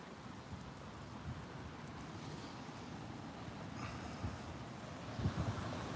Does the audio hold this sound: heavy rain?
yes